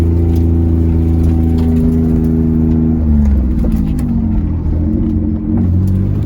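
A 2003 Mitsubishi Eclipse GTS engine is floored at full throttle while driving, its loud, close drone climbing steadily in pitch, then dipping at a gear change before it rises again.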